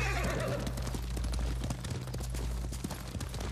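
A horse in Ghost of Tsushima whinnies loudly near the start, then its hooves clip-clop in a quick, close galloping rhythm over a low rumbling backdrop, with no talking.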